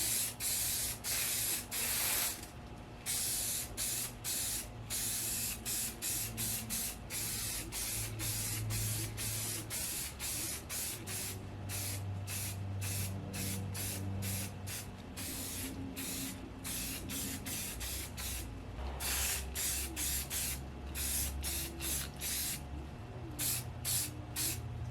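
Spray primer is applied to a prop staff in repeated hissing bursts of an aerosol can, some short and some longer, close and fairly loud with brief pauses between.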